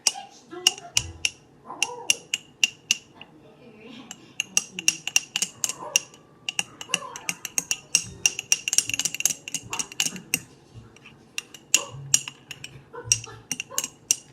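Metal spoon stirring instant coffee in a glass, rapid bright clinks against the sides in bursts, with a person talking in between.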